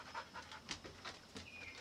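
A dog pants on a back deck, a steady run of quick breathy puffs, fairly faint and close, with no talking over it.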